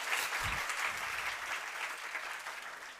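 An audience at a religious discourse claps steadily, a dense patter of many hands that starts strong and gradually thins toward the end.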